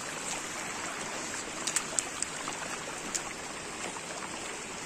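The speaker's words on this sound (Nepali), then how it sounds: "एकदम बाक्लो के अरे चिया जस्तो पानी बगिरहेको छ" Thick, muddy monsoon runoff flows like a stream near a landslide-hit road, a steady hissing wash of water with a few faint splashy ticks, fairly quiet and without voices.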